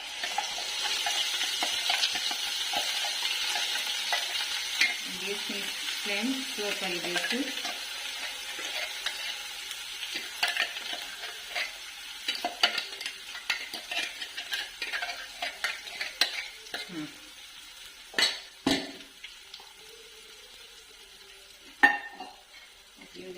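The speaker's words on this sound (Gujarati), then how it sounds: "ચમચી જેટલું કાશ્મીરી લાલ મરચું નાખીશ અને હવે આ પ્યુરી છે એમાં એડ કરી દઈશ" Tomato-style puree with Kashmiri red chilli sizzling in a pan, a bright hiss of frying under scraping spoon strokes that grow sparser and more scattered, with a brief spoken remark partway through.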